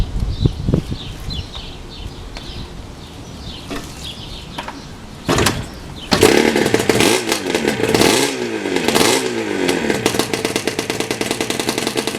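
The engine of a 1973 Kawasaki H1 500 two-stroke motorcycle starts up after some clatter and then revs hard and repeatedly, loud and close, with rising and falling blips.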